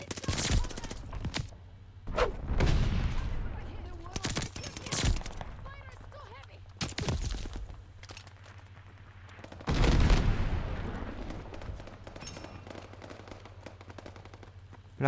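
Call of Duty Vanguard combat: several loud bursts of machine-gun fire and booming explosions, separated by quieter stretches of rumble and echoing debris.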